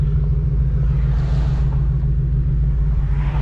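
Supercharged Ford Mustang running a tune on E85 fuel, its exhaust giving a steady, deep, loud rumble that holds evenly throughout with no voices.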